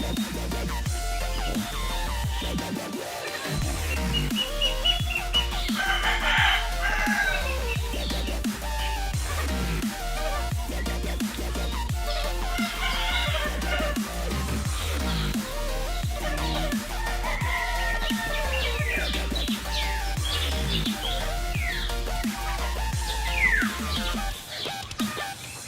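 Ducks and other poultry call without a break, with dense overlapping quacks, clucks and crowing heard close by throughout.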